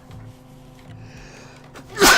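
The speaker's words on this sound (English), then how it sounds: "Oh, we're gonna sneeze." A single loud, sharp human sneeze bursts out near the end of a quiet stretch, close to the mic and much louder than the faint background before it.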